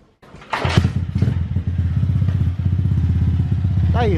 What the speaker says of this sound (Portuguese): Tá aí, rapaziada, motinha funcionando.